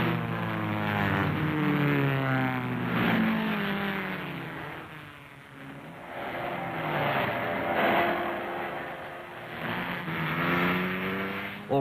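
Yamaha motorcycles racing in the 1958 Catalina Grand Prix, a continuous loud engine drone with rising and falling pitch sweeps as machines pass and rev, on an old, band-limited film soundtrack.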